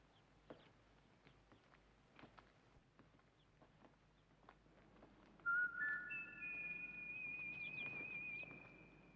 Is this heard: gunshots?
no